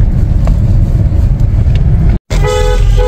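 Faulty car horn that has to be pressed hard, a loud blaring honk over rumbling road noise, cutting out briefly and then sounding again.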